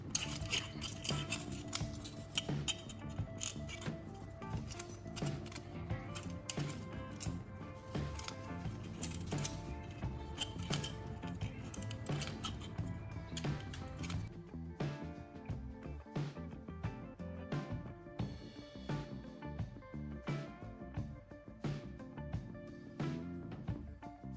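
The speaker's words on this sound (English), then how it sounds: "Instead, we'll switch to scissors for a safer approach." Scissors snip through a thin aluminum soda can in a long series of crisp, rapid clicks and crunchy cuts, close by, with no voices.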